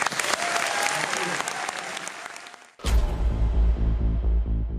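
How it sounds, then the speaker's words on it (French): A cinema audience at a film festival screening applauds the director, dense clapping for nearly three seconds that breaks off abruptly before loud, thumping music with a strong bass pulse takes over. "vous pouvez à nouveau applaudir le réalisateur"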